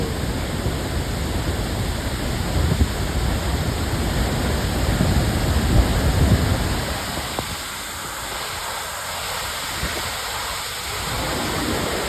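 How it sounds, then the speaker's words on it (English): The huge Khoupum waterfall roars as a dense, continuous rush of flowing water, loud and steady throughout, easing slightly toward the end. "Look at the flow of water."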